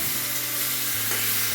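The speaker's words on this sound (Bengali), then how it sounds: "তারপর আমি এই মাংসর টুকরোগুলো এর মধ্যে দিয়ে দেব ভেজে নেওয়ার জন্য।" Chicken pieces frying in hot oil with a little turmeric, a steady close sizzle and crackle with no break, a faint low hum beneath.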